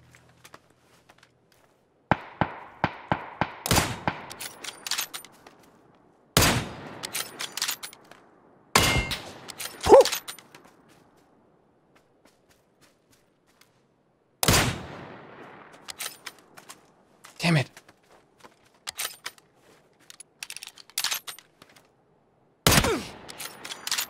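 Sniper rifle shots in PUBG on a swampland map ring out as sharp, isolated cracks spaced seconds apart, each trailing a brief echo, with quieter clinks, bolt and reload sounds in the gaps and long near-silent pauses.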